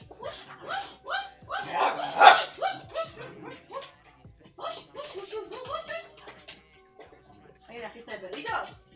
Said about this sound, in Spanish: ¿Hay una fiesta de perritos acá sucediendo?